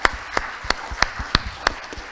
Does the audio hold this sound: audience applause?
yes